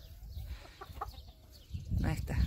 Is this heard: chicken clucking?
yes